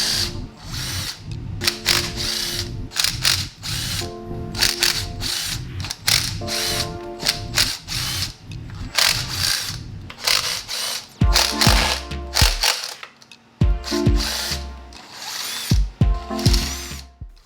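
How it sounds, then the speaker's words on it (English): Ratchet on a 10mm wobble socket with an extension loosening valve cover bolts on a BMW M54 engine: loud close bursts of rapid clicking, repeated many times with brief pauses between bolts, no talk. "I'm going to use a 10mm on a wobble socket with an extension"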